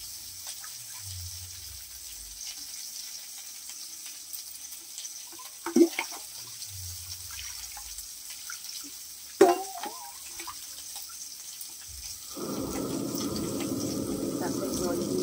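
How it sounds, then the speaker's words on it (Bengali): Water is poured into a pot for a sour curry of small river fish. After a quiet stretch with a couple of brief clanks, a steady gushing pour begins near the end and fills the last few seconds. "তারপর জল দিয়ে দিল,"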